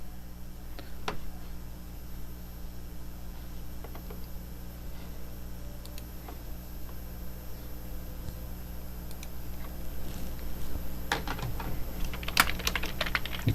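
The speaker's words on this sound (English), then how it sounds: "You can hear me typing, I know." Rapid keyboard typing clicks away steadily over a low electrical hum, with bursts of quicker, louder keystrokes toward the end.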